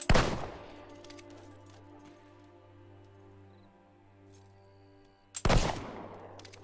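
Gunfire from the video game Fable II: a loud burst of shots opens, a steady game music drone carries on beneath, and a second loud burst of shots returns near the end.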